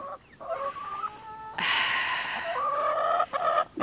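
Olive egger chickens give loud, nasal clucks and drawn-out squawks near the mic, with a brief lull before a burst of louder calling that settles back into steady clucking.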